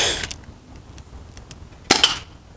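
A toy gun fires outdoors, giving two sharp snapping bursts about two seconds apart with faint clicks between them, and no voices are heard.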